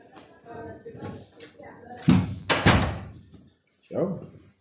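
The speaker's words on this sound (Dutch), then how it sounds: "ga ik nu even de deur dicht doen" A door is shut twice in quick succession with solid thuds during a spreadsheet chart lesson, sandwiched between stretches of someone talking before and after.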